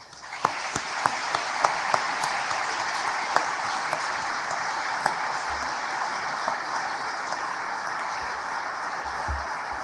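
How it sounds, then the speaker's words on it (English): Sustained audience applause fills a naval change-of-command ceremony for the Chief of Naval Operations, a dense steady wash of many hands clapping with a few sharper individual claps standing out, continuing evenly throughout. "let's give Mike and the entire Gilday family a round of applause"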